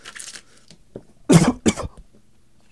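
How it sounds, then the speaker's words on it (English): Two sharp, close coughs with a bit of throat clearing break a quiet pause while trading card packs are opened, the second burst shorter than the first. "I apologise for the coughing."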